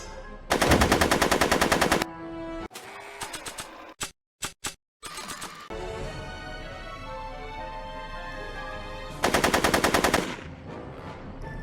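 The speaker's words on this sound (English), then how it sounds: "Are you shooting at me?" Back to the Future video game gunfire comes as two loud, sustained bursts of rapid machine-gun shots separated by a stretch of other game sounds and brief stuttering clicks.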